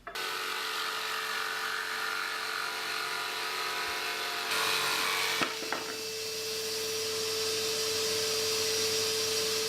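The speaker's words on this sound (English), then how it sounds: "That saw is really good for cutting curves." Jigsaw blade cutting curves through wood for a bird box, a loud continuous buzzing rasp that runs the whole time with a brief shift in pitch midway.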